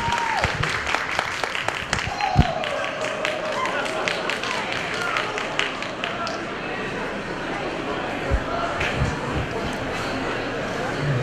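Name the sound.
audience clapping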